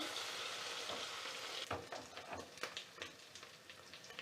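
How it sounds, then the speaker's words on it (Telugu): Ginger garlic paste sizzles in a pan over browned onions while a jackfruit biryani is cooked, giving a steady hiss of frying with sharper scraping and stirring clatter through the second half. "ఇప్పుడు ఇందులో కొంచెం అల్లం వెల్లుల్లి పేస్ట్ వేసుకుందాము"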